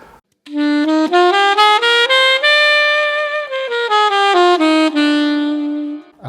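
A single saxophone plays a B Locrian scale smoothly up and then back down, one sustained note after another, clear and alone with no talking.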